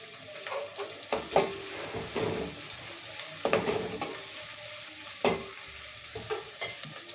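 Onion and curry leaves sizzle in a hot pan while a spoon stirs them, giving irregular scraping clatters over a steady frying hiss, close and moderately loud, with no talking.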